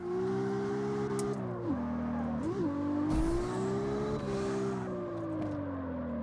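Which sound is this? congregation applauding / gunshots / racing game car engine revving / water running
racing game car engine revving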